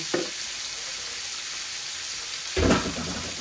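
Rui fish fry in a pan with a steady, close sizzle that runs throughout, swelling briefly in two louder bursts near the start and end.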